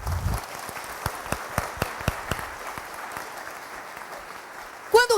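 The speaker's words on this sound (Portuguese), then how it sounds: "vamos aplaudir" A course audience in an oratory class applauding, scattered sharp claps spaced apart over a soft background, thinning out, with a brief louder burst near the end.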